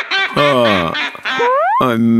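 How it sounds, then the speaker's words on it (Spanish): Loud, nasal cartoon duck quacks from a Pocoyo episode in a few drawn-out bursts, close and bright, with pitch sliding upward on the later calls. "me temo que este pato ya se sabía el chiste, Pato"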